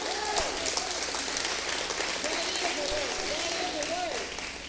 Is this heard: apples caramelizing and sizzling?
no